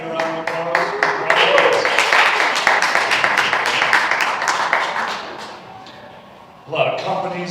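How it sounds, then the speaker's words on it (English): A comedy-club audience bursts into a long, dense round of clapping that swells loudly, then fades away before a brief burst of renewed noise near the end. "Can I get a round of applause?"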